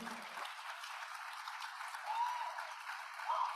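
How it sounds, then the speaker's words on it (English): An audience at a virtual morning session of a Global Studies trip to the Philippines gives a round of applause. The clapping is soft and diffuse, sounding thin and distant throughout. "Can we give all our speakers a very big round of applause?"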